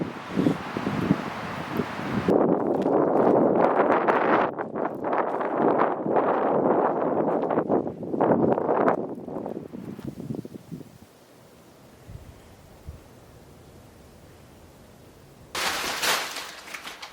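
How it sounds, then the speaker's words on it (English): Strong wind gusts outside a farmhouse at night, loud roaring bursts buffeting the microphone for about ten seconds, then a quiet lull before another sudden gust. "That wind is really whipping tonight."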